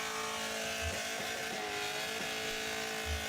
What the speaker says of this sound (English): he did more than one burnout in the Supra